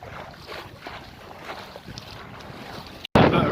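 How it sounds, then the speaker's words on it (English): Strong wind on a sailboat near a river mouth and creek, a continuous blustery roar with gusting buffets and some water wash, ending in a sudden loud burst of wind hitting the microphone. "The wind's just getting a bit strong on the helm, so I've just put one reef in."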